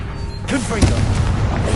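A Confringo blasting curse explodes in a Harry Potter video game: a sudden booming burst about a third of the way in, followed by a rolling rumble, with a voice and other game sounds over it.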